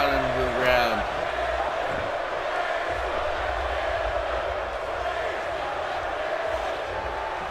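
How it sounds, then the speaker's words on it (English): A wrestling crowd keeps up a loud, steady roar of rhythmic chanting throughout, with a commentator speaking over it. "Crowd chanting, Rezar's gonna kill you."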